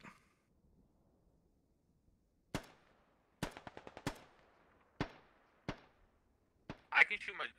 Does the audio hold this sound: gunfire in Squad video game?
yes